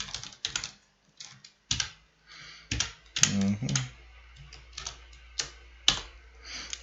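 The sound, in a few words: typing code on a computer keyboard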